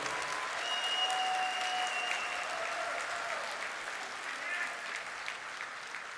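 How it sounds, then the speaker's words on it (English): Sustained applause from a sports hall of fame banquet audience, steady and fairly even throughout, with a faint whistle or cheer rising briefly within the clapping. "Please give another round of applause for our 3 posthumous inductees, Jack Jenkins, Phil Clark, and Ronnie Robins"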